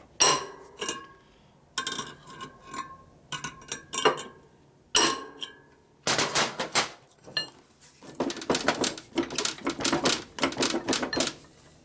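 A metal drift is hammered to knock the hub out of a Harley-Davidson brake drum from a 1965 Panhead FLH, with bursts of sharp metallic strikes that become rapid and continuous, loud and close.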